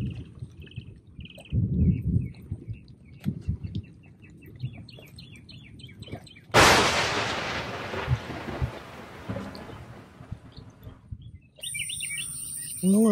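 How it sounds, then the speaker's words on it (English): Birds sing and chirp through steady rain at a campsite, with a loud burst of nearby thunder about halfway and soft rumbling beneath; brief murmurs of voice occur. "it's fun to listen to the rain, a little bit of thunder, and the birds are singing"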